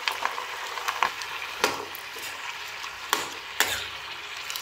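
Vegetables fry in a pan with salt, turmeric, cumin powder and sugar, giving a soft continuous sizzle broken by sharp scraping clicks of a spoon stirring at irregular intervals, close and alone.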